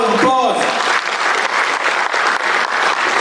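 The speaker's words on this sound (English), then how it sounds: "Please give him a round of applause." An audience at a festival event applauds a guest, a loud, full burst of clapping that follows a brief tonal sound at the start and continues steadily throughout.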